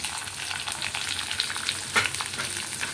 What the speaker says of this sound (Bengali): জিরে ফোড়ন দেওয়ার পরে আমি এখানে একটা মতো পেঁয়াজ কুচিয়েছি, সেই পেঁয়াজটা আমি দিয়ে দিলাম